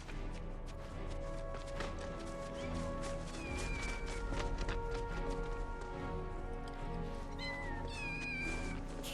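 Kittens meow in the Final Fantasy VII Rebirth video game, repeated high calls rising over a dense, steady layer of background music and ambience.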